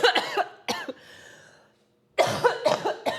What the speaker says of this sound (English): I'm so tired of coughing, you guys.